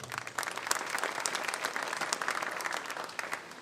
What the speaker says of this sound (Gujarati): વાલી વસ્તુ કીધી તમે તાળીઓ પાડી